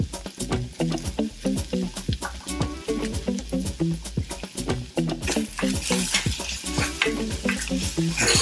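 Kohlrabi sautés with curry powder in a pan. Brisk, rhythmic stirring scrapes and taps repeat over a loud, continuous sizzle, and no one speaks.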